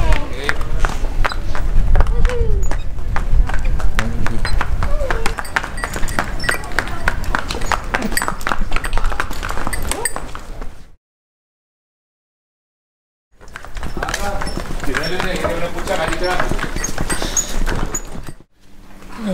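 Donkey hooves clip-clop steadily on a street in Hydra, Greece, a continuous close patter under people talking, broken by a brief silence before resuming.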